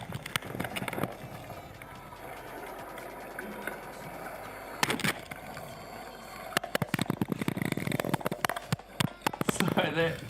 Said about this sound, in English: that is the sound of a GoPro rolling along the bottom of a river